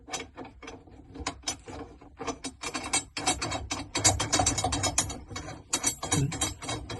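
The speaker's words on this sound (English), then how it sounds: "I'll just run that nut all the way down until it bottoms out against that pipe there" A nut spun by hand down a threaded rod against washers while replacing a cutlass bearing on a Pied Piper 28 sailboat, giving a run of close, quick metallic clicks and ratcheting ticks, steady and fairly loud, with no talk.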